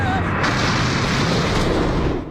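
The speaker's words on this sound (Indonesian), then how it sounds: "Ledakannya begitu dahsyat" A cannon shot from the Buggy Ball in an animated One Piece scene lands as a broad, sustained boom, a dense roaring blast rumbling steadily for about two seconds before easing off.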